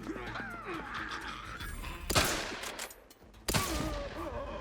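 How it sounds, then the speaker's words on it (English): Grenade blasts in The Outer Worlds 2: two loud, sudden booms a second or so apart, each with a broadband burst and short rumbling tail, over busy game combat noise. "Let's try a grenade then. Pop it! Grenade! An explosive!"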